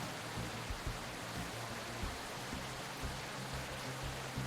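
Continuous rainfall in the video game Captain of Industry, a dense even hiss with soft low rumbles underneath, heard alone with no talking.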